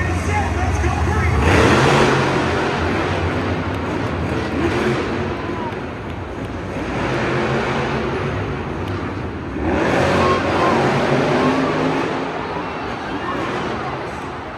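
Monster trucks roar off the start of an arena race at Monster Jam, loud engines swelling and fading in repeated surges with crowd noise and an announcer talking throughout.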